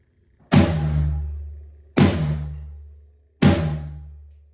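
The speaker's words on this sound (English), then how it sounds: "also plays a floor tom sound with a big mallet that sounds like this." Three deep, booming floor tom strikes from a big soft mallet, evenly spaced and close, each one rumbling out in a long decay.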